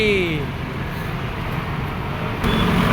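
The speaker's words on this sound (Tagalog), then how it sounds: "Traditional jeepney na Cavite 90 TSC." A traditional Philippine jeepney passing in steady roadside traffic at Binakayan, Kawit, a close engine rumble and road roar with a short tonal whine at the start and a rising swell near the end.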